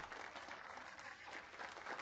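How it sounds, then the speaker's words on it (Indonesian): Applause at an auction for a winning bidder: a short burst of many hands clapping together, soft and somewhat distant, steady across the moment. "Mari kita berikan tepuk tangan untuk Bos Gu."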